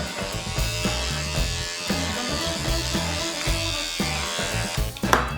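Electric hair clippers buzz steadily and close up, with crunchy bursts as the blades move through hair.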